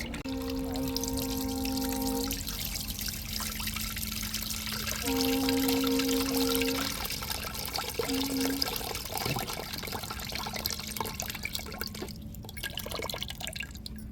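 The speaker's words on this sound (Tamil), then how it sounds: "மீன் இன்னும் கொஞ்சம் தண்ணியை ஊற்றி நல்லா நல்ல தண்ணியில் அலசி எடுத்துகிட்டு" Fish for tuna curry is rinsed in water, with steady splashing and trickling close by, broken by a few brief tonal hums, and no talk.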